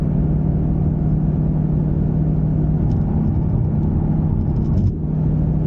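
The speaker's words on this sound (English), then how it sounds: "I think it has rev matching because I just went into fourth and it jumped up on its own" A 2021 Ford Mustang GT Performance Package tuned to 750 horsepower rev-matches on a downshift. A loud, steady engine drone is heard from inside the car, with a brief rise and dip in the engine note near the end. No one speaks.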